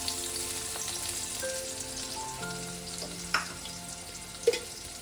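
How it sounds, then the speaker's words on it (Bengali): Chopped onions sizzle steadily in hot oil in a kadai after fasha fish has been fried, a soft continuous crackle with a couple of sharper pops near the end and no talking. "নিয়ে আমি তেল গরম করে পেঁয়াজটা দিয়ে দিলাম"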